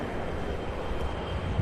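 An Alaska Air airplane taxiing at Cincinnati airport gives off a steady, broadband engine roar and rumble that holds at an even level throughout, with no talk over it.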